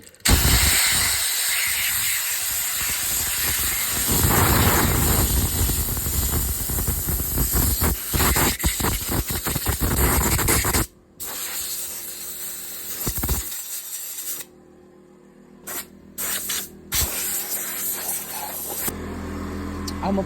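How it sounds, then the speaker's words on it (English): An air blower dries a pit bike after track riding, with the tire spun while air is blown. A loud, continuous hiss runs throughout, briefly cutting out and resuming in short bursts near the end, with no talking. "You're just gonna spin the tire and blow air."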